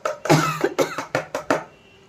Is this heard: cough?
yes